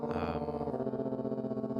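A short looping beat with a gritty, distorted, fuzzy tone, dense and buzzing throughout, with no voices.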